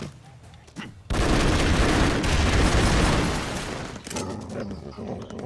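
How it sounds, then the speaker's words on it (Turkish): A bomb goes off in the action game Broforce, a loud roaring blast that rumbles on for about three seconds before settling into lighter crackling game noise. "Bir bomba daha."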